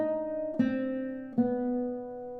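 Solo guitar plays Shostakovich's DSCH motif, a slow melancholy line of sustained plucked notes, with two soft new attacks ringing into each other, quiet and close.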